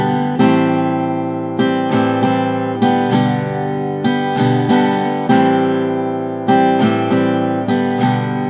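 Acoustic guitar chords strummed in a steady pattern of downstrokes and upstrokes, a bright and close rhythmic sequence of repeated strums with no talking over it.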